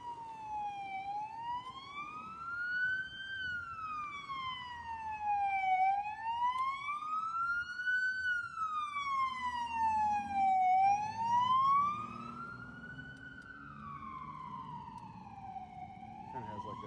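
An emergency vehicle siren, a fire truck or ambulance near a downtown hospital at 3 a.m., wails in slow rising and falling sweeps, loud and steady for the whole stretch, over the low rumble of traffic and the ride on an e-bike.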